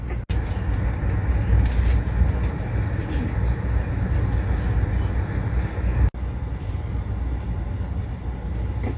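Continuous loud rumble of an Amtrak Pennsylvanian passenger train heard from inside a coach car, steady wheel-on-rail roar with faint rattles throughout.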